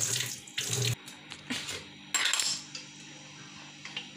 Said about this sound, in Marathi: आपण आता ही डाळ धुवून घेणार आहोत।